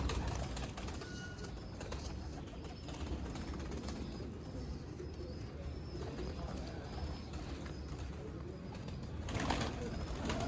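Two large black-faced Sialkoti pigeons on a rooftop loft coo softly and steadily against a dense, continuous outdoor background hum, with faint chirps and occasional rustling throughout.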